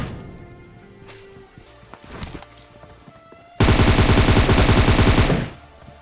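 A sustained burst of rapid rifle fire in PUBG on the Erangel map, loud and close, lasting about two seconds after quieter game sounds and distant shots.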